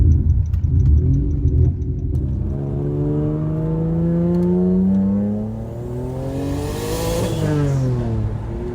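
A car engine revs up loudly, pitch climbing and falling across several throttle blips, close by with no talking.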